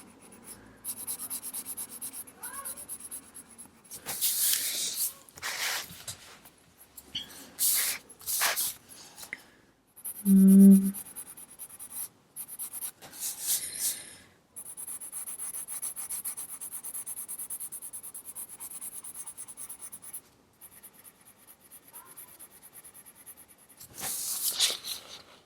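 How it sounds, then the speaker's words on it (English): Light pencil strokes drawn across paper with barely any pressure, soft intermittent rubbing and scratching in short bursts, close and quiet, with one brief louder bump midway and no talking. "I'm barely putting any pressure on my pencil."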